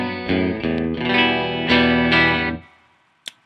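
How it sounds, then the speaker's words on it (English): A Guild S-60D electric guitar on its bridge humbucker pickup rings out loud, distorted chords with a chorus-like shimmer, struck a few times before fading, followed by one short click. "This is the bridge pickup, which to some is in the right position."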